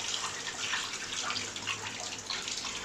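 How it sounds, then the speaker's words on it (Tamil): Coriander leaves are rinsed under a running kitchen tap for a Pallipalayam chicken gravy, a steady, close hiss of flowing water splashing over the greens, unbroken throughout with no speech. "கொத்தமல்லி தழையை இப்படி நல்லா கழுவிடணும்."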